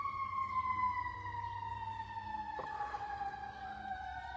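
A siren wails through a residential neighborhood, one long tone sliding slowly downward as it passes at moderate distance, steady and unaccompanied.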